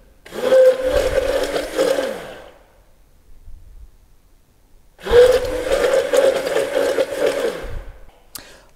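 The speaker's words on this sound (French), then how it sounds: "à l'aide d'un simple mixeur de la maison, je vais mixer pour favoriser la réaction chimique entre la lessive de soude et les acides gras" A household hand blender mixes cold-process soap paste of lye solution and fatty acids, whirring steadily in two bursts of about two and a half seconds each, with a quiet pause between and no talk.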